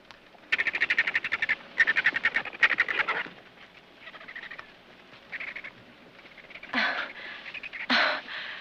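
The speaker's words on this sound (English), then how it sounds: "Oh, that's a whiskey jack." A gray jay (whiskey jack) calls in bursts of harsh, rapid chattering notes, loud and close, repeated several times with short pauses between.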